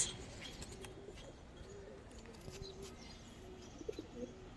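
Silver-coloured and army pigeons coo softly in a low, throaty repeated call, faint and distant against steady background noise.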